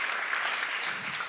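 Audience at a business conference applauding as a co-founder and CEO is introduced; a short, steady burst of many hands clapping fills the room at moderate level, with no one speaking over it.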